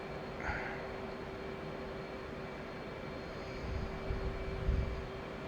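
A jet engine roars steadily as it throttles up in the DCS flight simulator with an F/A-18C and F-16, a continuous dense rumble that swells slightly toward the end.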